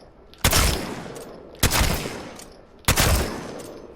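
Three loud, close shotgun blasts from a video game, evenly spaced about a second apart, each sharp crack trailing off in a short decay, with no talking.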